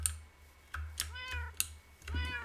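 Cat meowing in a video game, several short plaintive meows in quick succession mixed with keyboard clicking nearby, fairly close and clear.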